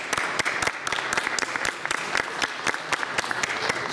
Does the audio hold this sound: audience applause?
yes